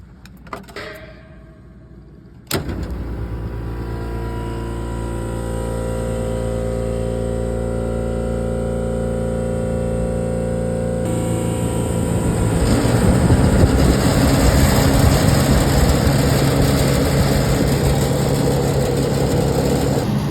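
A walk-in cooler's compressor and fan motor start up after repair, a steady loud mechanical hum and whir that kicks in abruptly and runs continuously, growing slightly fuller toward the end, with no talking.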